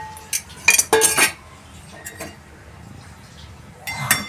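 Instant American corn snack spooned out of a covered pan into a dish, with a few sharp clinks and scrapes of a metal spoon against steel and ceramic in short bursts, then quiet, then one last clink.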